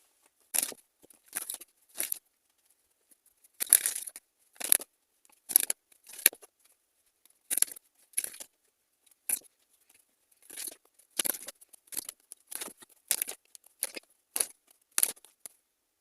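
Tarot cards being shuffled and drawn in quick crisp bursts of flicking and snapping, separated by short silences, close and fairly quiet, with no talking.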